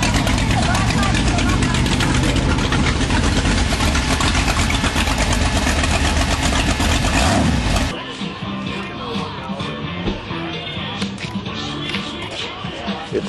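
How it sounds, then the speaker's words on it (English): Boss Hog motorcycle with a 502 cubic inch big-block engine idling loud and rough, a dense throbbing rumble that drops to a quieter idle partway through. "502 cubic inches of rat motor on a motorcycle."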